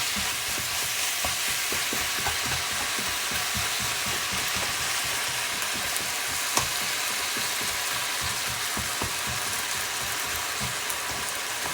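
Ground turkey seasoned with salt, pepper, cumin, oregano and basil sizzles loudly in a hot pan, a constant close crackle with faint rhythmic stirring scrapes and no voices.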